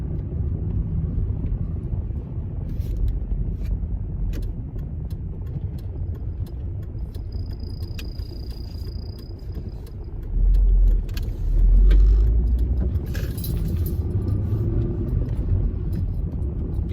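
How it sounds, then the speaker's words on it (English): A Volvo V70 2.4 T manual estate with its 200 bhp five-cylinder engine drives along, heard from inside the cabin with the air conditioning running: a steady low drone that swells into a deeper surge as the car accelerates midway. "I've always liked the 5-cylinder engine that Volvo have done since they released the first ones in the 850 back in the early 90s."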